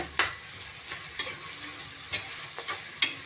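Slit green chillies are sautéed in a pan, producing a continuous low sizzle broken by a few sharp spatula scrapes at irregular intervals, close up with nobody speaking.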